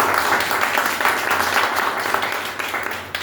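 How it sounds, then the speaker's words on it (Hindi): Loud, dense applause from an audience gathered for a talk, a continuous wash of many hands clapping close and steady throughout, with no speech over it. "हमारे गुरुदेव चंद्रशेखर प्रसाद गुरु जी के लिए जोरदार ताली चाहिए"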